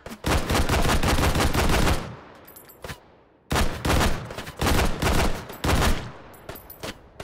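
Automatic gunfire from a rifle in the VR shooter Hot Dogs, Horseshoes & Hand Grenades: a loud sustained burst lasting about two seconds, a lone shot, then several shorter rapid bursts, with faint metallic clicks in between.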